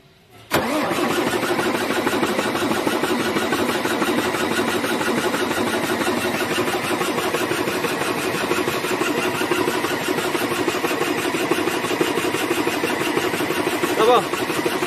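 MAN TGA truck diesel engine with a low-pressure starting fault cranking briefly then catching and settling into a loud, steady rumbling idle close by, with a voice faintly underneath.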